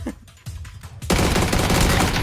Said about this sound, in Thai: ผมจะยิงอัดเข้าไปที่พี่แล้วนะ